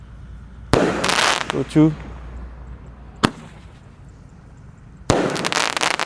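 Roman candle firework shots firing in sharp, loud bursts, one at the start, another a couple of seconds later and a third near the end, each with crackling spray, while a man counts between them.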